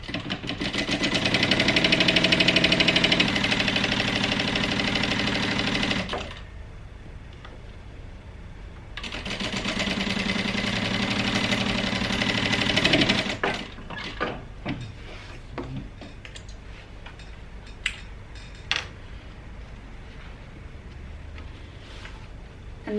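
A sewing machine stitches the front and lining of a bag's slip pocket together in two sustained runs separated by a pause, followed by quieter clicks and fabric handling.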